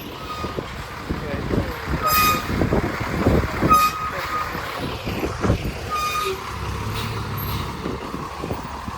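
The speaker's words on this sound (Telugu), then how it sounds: "బస్సు అయితే దారుణంగా పోతుంది" A bus drives along a hill road with a steady engine rumble, several short horn toots and a brief air-brake hiss, heard from close by.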